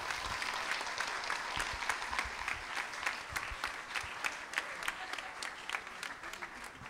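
Loud, continuous applause from a school event audience, many hands clapping steadily throughout with no voices on top.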